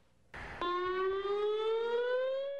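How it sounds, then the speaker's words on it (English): An outdoor tornado warning siren starts after a short burst of noise, then holds a loud, steady wailing tone that slowly rises in pitch, heard alone with no talk. "These are outdoor warning sirens"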